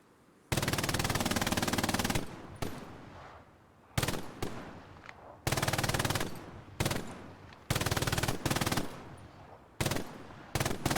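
Machine gun fires repeated bursts, each a loud rapid string of shots lasting one to two seconds, separated by short pauses with fading echoes, close and with no voices.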